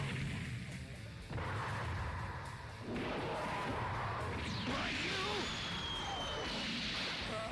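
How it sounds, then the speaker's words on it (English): A break cannon attack from Nappa in Dragon Ball Z Budokai 3 on PS2 roars as a dense, sustained energy blast with crashing impacts and rising whooshes, loud and continuous over game music. "And does a break cannon, launching him straight into the dinosaur again."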